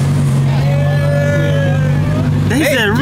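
A Lamborghini engine drones loudly and steadily, then rises in a sharp rev near the end. Voices and other tonal sound run underneath the engine.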